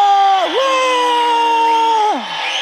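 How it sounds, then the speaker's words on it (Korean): A church congregation, children among them, shouts together in one loud sustained cheer lasting a couple of seconds, the massed voices dipping briefly near the start and tailing off at the end. "다 함께 두 손을 높이 들고 함성을 지르는 겁니다"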